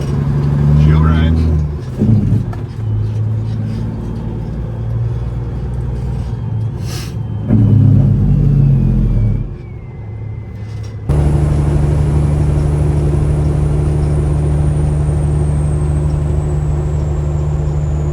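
A vehicle engine idles with a steady low rumble, then rises and holds steady as it reverses and pulls away near an intersection in a small Oregon town, with people talking over it in the first half.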